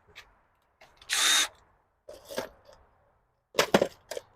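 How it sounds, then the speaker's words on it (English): Short power drill bursts driving into wood on a greenhouse door: one sustained whir near the start, then a few choppier, sputtering bursts, close up and loud against quiet pauses. "All right, so now we just have to drill"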